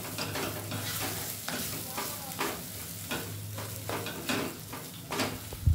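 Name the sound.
mashing potato with onion for aloo chokha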